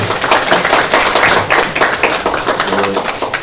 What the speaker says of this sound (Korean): 격려의 박수를 보내겠습니다.